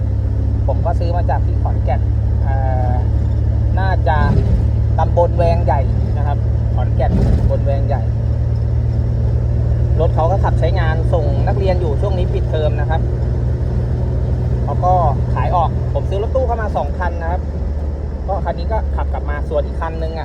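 A Nissan Urvan van with a TD25 diesel engine drives along with a steady low drone that shifts pitch partway through, while someone talks continuously over the engine.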